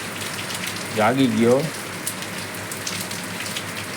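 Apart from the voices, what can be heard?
rain falling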